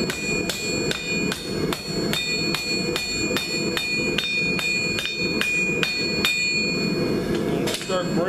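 Steady, ringing hammer blows strike hot steel on an anvil about twice a second, forging a fire poker tip, each hit bright and clanging, with a faint voice beneath.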